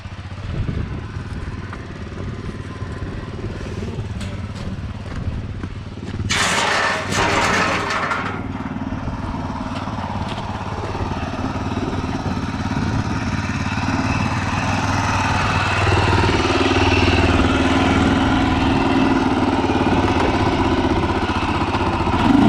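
A Harley Davidson MT350 motorcycle engine runs nearby with a steady thumping idle, briefly masked by a sharp clattering burst, then continuing loud and slightly rising toward the end.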